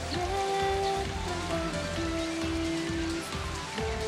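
Steady rain pattering on surfaces in the game Final Fantasy XIII, a continuous wash of drops running throughout with sustained tonal game music layered over it.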